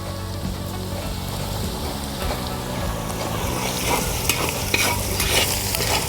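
Kerala-style chicken perattu frying with garlic paste and salt in a pan while being stirred, a loud continuous crackling sizzle with scraping and spatula knocks growing busier toward the end, close up and without speech.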